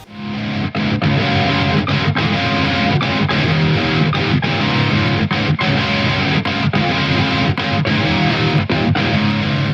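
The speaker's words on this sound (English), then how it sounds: "I'm just going to be using power chords to get that across" Heavily distorted pop punk electric guitar power chords chug through a driving, steady rhythm, loud and continuous with regular accented strikes.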